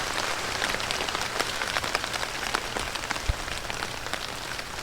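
Steady rain patters down across a garden, a dense, even hiss with scattered louder drops splashing nearby, continuous throughout with no voices.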